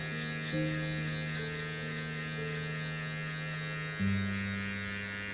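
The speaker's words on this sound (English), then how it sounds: "make sure that you're using only the edge of the clipper" An electric hair clipper runs continuously during a mid fade haircut, giving a steady close buzz and hum whose pitch shifts slightly as it meets the hair, with no talk.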